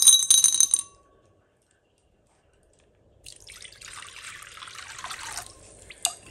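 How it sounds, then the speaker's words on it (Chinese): Lotus seeds being rinsed in water at a kitchen sink: a short bright clink opens, then silence, followed by a steady splashing, trickling wash of water and stirring that runs to the end. "把莲子清洗干净"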